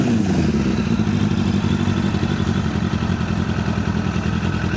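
A Suzuki Bandit 600cc motorcycle with a short exhaust runs loud and close, its engine holding a steady, throbbing idle with slight rhythmic pulsing throughout and no voices.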